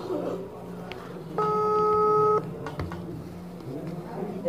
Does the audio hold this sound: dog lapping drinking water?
no